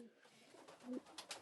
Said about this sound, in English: You can see this is a family of pigeons